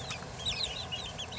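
A young light Brahma chicken clucks softly and chirps in short, high wavering calls, faint and close over a low background rumble.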